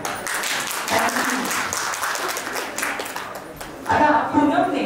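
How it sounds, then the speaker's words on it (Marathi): Guests at a baby shower applaud in a lively, uneven burst of clapping that swells near the end, with voices talking over it. "असो आम्ही टाळ्यांचा आहेर स्वीकारतो."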